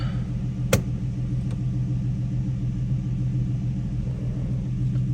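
Infiniti G35 or Nissan 350z idling and easing into reverse after a clutch pedal adjustment, a steady low engine rumble with a brief sharp click near the start, heard from inside the car, no talking.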